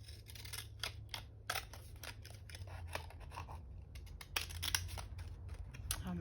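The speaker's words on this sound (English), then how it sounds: "Oh my goodness, these scissors are not very good at all." Scissors snip through paper in a run of short, jagged cuts, crisp close-up clicks and crunches repeating unevenly over a low steady room hum, with no talking.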